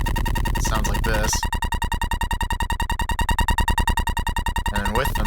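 Bass sound generated with FL Studio's sampler, looping dry without effects: a gritty, buzzing tone pulsing in a rapid steady rhythm, with a couple of glitchy sweeps near the start and end.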